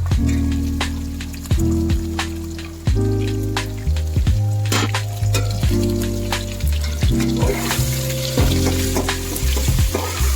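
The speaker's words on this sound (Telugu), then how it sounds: "ఇలా వెజిటేబుల్ వేసుకొని బాగా కలుపుకోవాలి ఫ్రెండ్స్" Carrots, onions, green chillies, tomatoes and green peas for vegetable biryani fry loudly in a pan. Close, busy sizzling and crackling continue throughout, with repeated scraping stirs and clatter against the pan.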